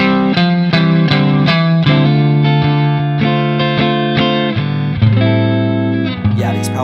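An Alfa electric guitar with Paoletti pickups rings through an amp with effects, opening with several quick strummed chord attacks, then moving into sustained, shifting chords and notes that carry a chorus-like shimmer, loud and close.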